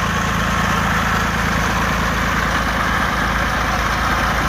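A tractor engine idles close by with a steady, loud low rumble and an even mechanical throb, and nothing else is heard.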